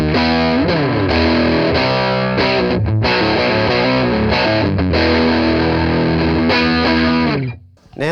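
Little Rascal low-watt combo amp with preamp gain maxed, saturated distorted electric guitar playing chords and single-note lines loudly and continuously up close, trailing off briefly near the end.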